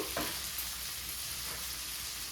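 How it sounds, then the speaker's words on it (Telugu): Mint leaves fry in hot oil in a pan, giving a close, steady sizzle with a faint stir or scrape near the start, no voices. "పుదీనా కూడా వేగింది."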